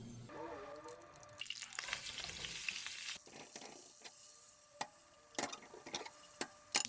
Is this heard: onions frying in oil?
yes